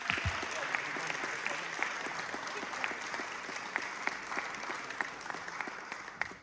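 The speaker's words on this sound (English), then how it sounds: "can we please have the best of all and a massive round of applause up to the front for Patricia." An audience at a talent show claps continuously in a dense, even patter of applause, with a few sharper claps standing out before it fades at the end.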